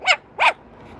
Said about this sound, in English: You see the dog? You gonna bark again?